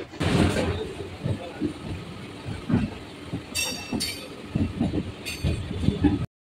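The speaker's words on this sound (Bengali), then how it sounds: "আমাদের ট্রেন এখন ধীরে ধীরে লাইন চেঞ্জ করে 4 নম্বর লাইনে ঢুকে যাচ্ছে।" Rumbling local train noise near Barrackpore station with rhythmic clanks and a few bright metallic squeals as wheels cross points while switching to platform line 4, steady and close throughout.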